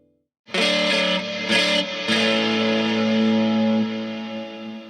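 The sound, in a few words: electric guitar Gibson L-5S through 1981 DRV overdrive pedal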